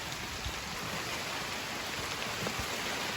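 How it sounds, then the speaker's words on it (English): Heavy rain pouring steadily outdoors in a garden with plants and kiwi vines, a dense, constant hiss of drops striking leaves and surfaces, close and even with no talking. "Okay, so it's raining a lot."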